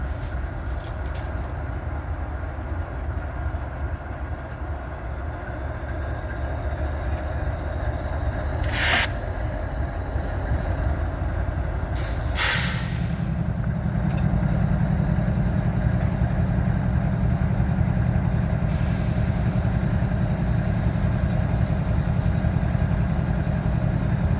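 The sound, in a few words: Abbeville switcher locomotive starting out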